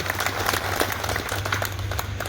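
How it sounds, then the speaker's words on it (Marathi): An audience applauds in a dense, steady burst at a sugar factory gathering announcing the Nira Bhima cane price, many hands clapping continuously throughout with a faint low hum beneath. "एकदा टाळ्या वाजवून त्यांचं अभिनंदन करा,"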